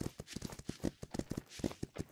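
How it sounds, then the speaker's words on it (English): Horses walk in the video game Myth of Empires, their hooves giving a fairly quiet, uneven clip-clop of many overlapping steps. "Oh, look at those horses."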